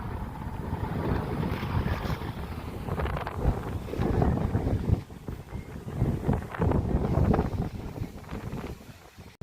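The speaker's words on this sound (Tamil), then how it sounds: "காற்றை பாருங்க இப்படி நல்லா கடற்கரை காற்று" Strong, steady coastal sea breeze buffeting close against the microphone near Jaffna Fort, a broad rushing roar that swells and dips with gusts, no voices.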